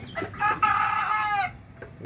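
A Fayoumi rooster crows loudly, with Fayoumi hens clucking briefly before and after the call, close by.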